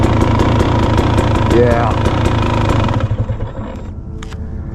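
A 2023 KTM 300SX two-stroke motocross bike engine runs steadily and loud up close, rising briefly in pitch, then drops to a lower idle near the end while a voice speaks briefly.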